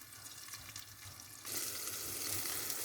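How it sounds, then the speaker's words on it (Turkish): Sausages and peppers fry in a covered pan with a steady broadband sizzle that jumps louder and brighter halfway through, continuing dense and close with no talk. "Kızaran sosislerimiz şişmeye başladı"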